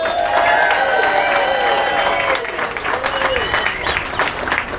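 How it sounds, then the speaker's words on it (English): A crowd at an Amtrak passenger rail welcome event in Pensacola, Florida applauds steadily with some whoops and cheers rising over the clapping, while a voice talks briefly over the noise. "let's give you a big round of applause"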